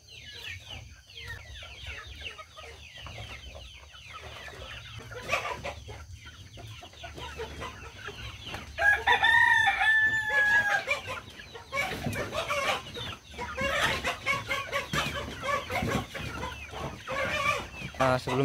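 Backyard chickens with more than one rooster, clucking steadily close by, a rooster crowing clearly midway, and a person speaking intermittently in between.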